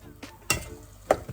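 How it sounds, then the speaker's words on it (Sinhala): Vegetables being stirred in a pan for homemade crispy rolls, with three distinct scraping strokes of a utensil against the pan over a faint background, close and fairly crisp. "අපි මේ විදිහට හොඳට කලවම් කරගමු"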